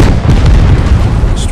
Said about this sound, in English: I'm going to put a rocket into it,